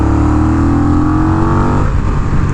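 Honda Rebel 1100 DCT motorcycle accelerating hard, a loud, close engine roar with rising pitch and a shift near the end, no voices over it.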